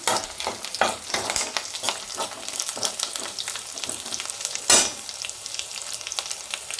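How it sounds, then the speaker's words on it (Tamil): Green chili and vadagam frying in hot oil for paruppu urundai kulambu, a steady close sizzle with stirring clatters and one sharp crackling burst partway through, no talk. "ஒரு பச்சை மிளகா சேர்த்துக்கிறேன்."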